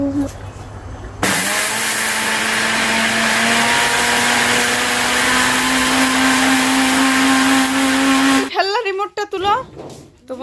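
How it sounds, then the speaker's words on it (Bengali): A mixer grinder grinding soaked red grain into flour whirs loudly and steadily for several seconds, then stops, and a voice speaks right after. "মিক্সার মেশিনে গুঁড়ো করে খাওয়া"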